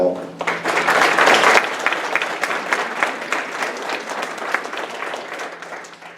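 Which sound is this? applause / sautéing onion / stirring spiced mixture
applause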